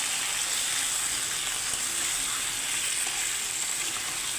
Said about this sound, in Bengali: আমি আলু পেঁয়াজ একসঙ্গে দিয়ে দিয়েছি, একসঙ্গে ভেজে নিচ্ছি